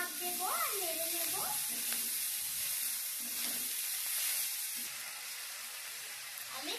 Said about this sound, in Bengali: আমি একটু করে শাক দেব আর নেড়ে নেব।